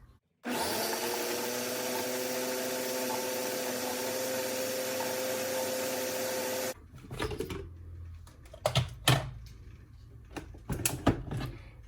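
A blender runs at high speed, purring steadily for about six seconds as it purées an avocado pesto sauce with lemon and water, then cuts off, leaving scattered clatters and handling noises.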